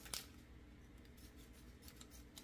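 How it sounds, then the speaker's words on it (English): Scissors cutting into packaging, heard as one brief, faint snip near the start, followed by quiet room noise. "Let me grab a scissors"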